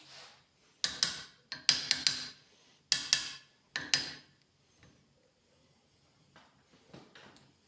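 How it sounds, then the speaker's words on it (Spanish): A hammer pounds lead into a homemade fishing sinker: about ten sharp, close metallic knocks come in quick clusters, then a few softer taps and handling noises trail off. "después de unos buenos golpes, pues, bueno, se había apretado bastante, tenemos la primera plomada"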